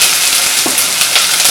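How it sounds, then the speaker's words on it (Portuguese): Chopped onion sizzles in a pan as the first step of a nettle and leek risotto, a steady close frying hiss with a couple of soft stirring scrapes. "A gente vai dar uma fritadinha na cebola."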